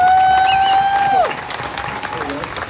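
A protest crowd in Portland applauds and cheers. The clapping comes from a moderate distance, under a loud voice shouting through an amplified horn with a whistle-like tone, then continues more loosely as the shouting stops.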